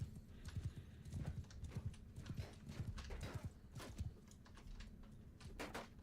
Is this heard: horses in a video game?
yes